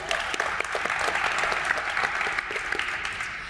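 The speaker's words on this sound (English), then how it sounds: "Clap it up." An audience applauds at a photography exhibition event, sustained dense clapping from a crowd with sharp individual claps standing out, steady for several seconds.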